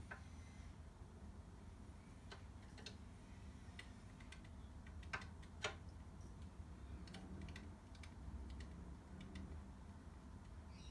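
Scott Bonnar Model 45 cylinder mower with its reel making the slightest contact with the bedknife as it turns, giving faint, scissor-like ticks and clicks at an irregular pace against a low background hum, with no talking.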